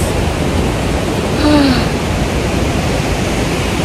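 Nikko Falls in Japan roars as a broad, steady wash of falling water in icy winter surroundings, loud and constant, with a brief faint voice-like tone midway.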